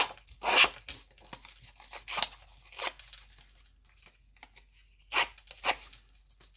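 Paper edges are roughed up by hand for a handmade winter card. Several short, sharp tearing and scraping bursts come close up, separated by quiet gaps, with no talking.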